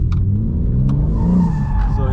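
Red Bull DriftBrothers BMW M3/M4 drift car holding a continuous loud engine drone with tire wheel spin, the pitch rising and falling as throttle shifts, while someone talks over it.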